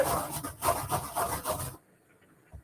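A grinder scrapes and grinds in a rhythmic rubbing pattern during home cooking, close by and fairly loud for about two seconds before it stops abruptly, with no talking.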